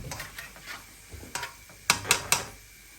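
Garlic and onion sautéing in a pan, soft sizzling with a spatula stirring and scraping, then three sharp metallic clanks of a utensil against the pan, close and alone without talk.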